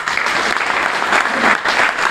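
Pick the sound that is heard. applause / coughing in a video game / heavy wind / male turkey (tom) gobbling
applause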